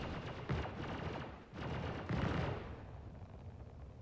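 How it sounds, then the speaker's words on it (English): Bursts of gunfire at a space station in the game Star Citizen, two heavy rattling volleys about a second and a half apart, then a lingering rumble fading out, with no talk over it. "Probably a wanted person getting shot at by the station."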